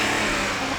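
A car sits running with its engine on after DIY fuel-saving modifications. A brief, loud, steady mid-pitched hum is heard up close.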